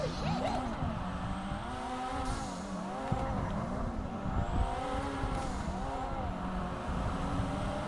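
A Toyota Supra, the Jester Classic in GTA 5, drives with its engine revving up and down in repeated swells, mid-loud and continuous, with tyres squealing now and then.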